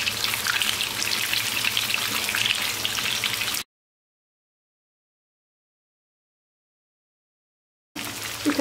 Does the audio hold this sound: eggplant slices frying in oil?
yes